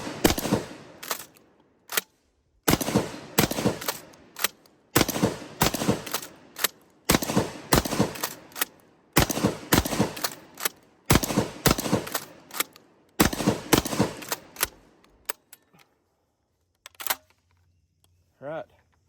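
Standard Manufacturing DP-12 Gen II double-barrel pump shotgun firing 2 3/4 inch bird shot, a long run of loud, sharp blasts in quick pairs and bursts with brief gaps, then quieter clicks and handling at the end.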